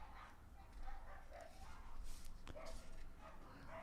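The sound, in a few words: dogs fighting and barking outside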